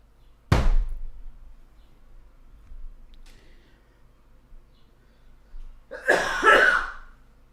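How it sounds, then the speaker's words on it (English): A single sharp cough bursts out early, followed by quiet, then a longer, rougher cough near the end, both close and loud. "I'm having a coughing fit."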